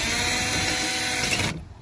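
A power driver runs steadily while fastening the cross bar of a window shutter on a second floor, a close, loud whirring that stops abruptly near the end.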